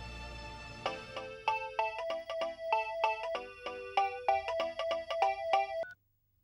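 A melodic phone ringtone plays during an outgoing call in a Telugu TV serial, a repeating tinkling tune of bright notes at moderate level that cuts off abruptly.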